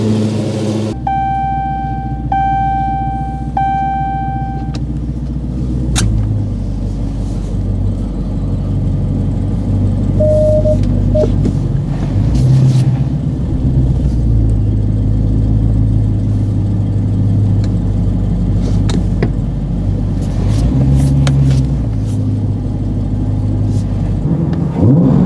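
A 2023 Dodge Challenger Hellcat Wide Body engine idles with a deep, steady rumble close by, rising briefly in a few low swells, with no talking over it.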